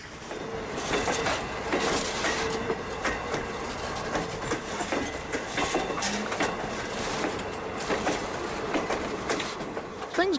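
A steam train rolls past on the tracks with rhythmic clickety-clack of wheels and occasional metallic squeals, steady and moderately loud.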